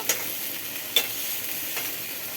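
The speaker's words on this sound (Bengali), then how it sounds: "যখন নাড়তে থাকবো তেল যখন ছেড়ে দেবে তারপর আমি মশলাগুলো দিয়ে দেব" Spices fry in a little oil for a yogurt chicken dish, giving a soft, steady sizzle with a few brief scraping stirs, quiet and close.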